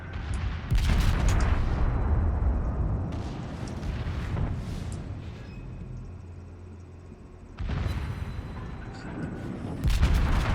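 Battleship secondary guns firing in World of Warships, fourteen guns engaging: dense rolling booms and cracks in bursts, loud and close, with lulls between volleys and brief speech at times.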